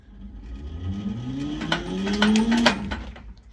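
A PureFreedom ReelMaster electric hose reel motor for window cleaning starts softly, its whine climbing steadily in pitch as it spins up over a few seconds, close by and alone.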